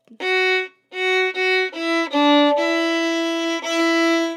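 A bowed fiddle plays a simple, slow melody of several sustained notes, clear and close, with a short pause after the first note.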